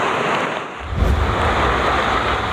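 Overflowing river water rushes at the Evangelista Bridge in Biñan, Laguna during heavy typhoon rain, a loud continuous roar of churning floodwater and downpour that swells into deeper low rumbling partway through, with no talking.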